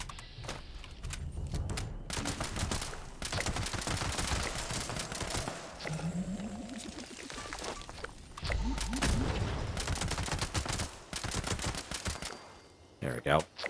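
Weapon fire while killing enemies in the Fallout 76 video game: long bursts of rapid automatic shots rattle almost without pause, loud and close, with brief breaks and some heavier booms.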